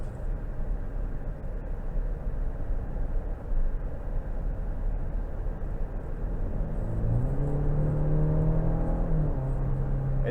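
2022 Cadillac XT5 Premium Luxury 2.0T in all-wheel drive, heard from inside the cabin as a steady low engine drone that climbs in pitch as the SUV accelerates, with a muted road rumble beneath.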